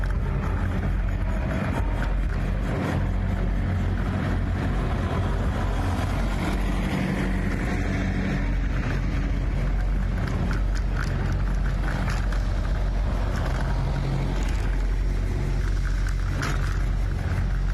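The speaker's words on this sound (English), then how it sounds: "And the line goes on and on and on. And more trucks end up showing up." A long line of trucks held up by protesters in Canada rumbles past in a continuous, low, heavy roar of engines and road noise, with no voices.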